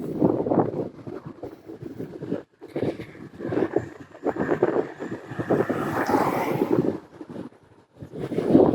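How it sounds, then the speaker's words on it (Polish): Gusting wind buffets the microphone of a cyclist riding a rural road through open country, a rough low rumble that swells and dips irregularly, loud and close, with brief lulls. "Teren otwarty, wiatr w twarz wieje."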